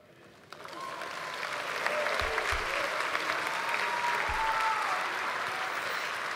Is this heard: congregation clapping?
yes